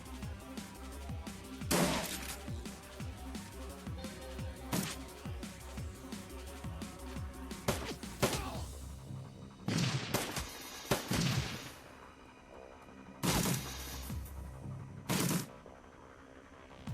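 A grenade launcher in Shadowrun: Dragonfall fires several loud, sharp blasts at irregular intervals over a busy combat soundtrack, with a tight cluster of bursts near the end.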